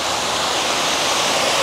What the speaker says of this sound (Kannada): ಕೆಳಗಡೆ ನೀರೆಲ್ಲ ಹೆಂಗೆ ಎಲ್ಲ ಕಲ್ಲಿಂದ ಬರ್ತಾ ಇದೆ ಎಲ್ಲ